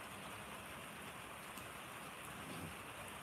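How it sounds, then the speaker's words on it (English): Steady, soft rain falls in the background during a live cooking stream, an even, continuous patter with no voices or other distinct sounds over it. "I don't know what you are hearing, like if the rain's really loud or just soft in the background or what."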